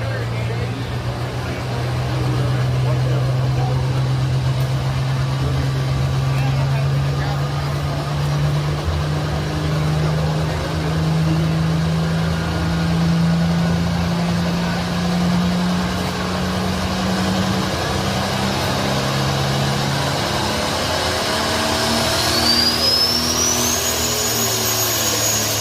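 A pulling tractor at a tractor pull in Lincoln, Nebraska, with a loud, sustained engine drone whose pitch climbs slowly and steadily as it builds revs over the whole stretch.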